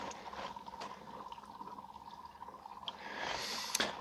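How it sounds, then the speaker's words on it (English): Reverse osmosis filtered water from a battery-powered filtration system flows into a 5-gallon bucket, heard as a faint, steady trickle with small drips and gurgles from air in the line, swelling to a louder splashing near the end. "It takes a while for the reverse osmosis water to start flowing."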